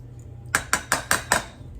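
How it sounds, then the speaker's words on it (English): A spoon clinks against a container while stirring a honey and elderberry syrup mixture, five sharp evenly spaced taps close up over a faint background hum. "I'm just gonna get this stirred up for a couple minutes, just make sure the honey's all incorporated"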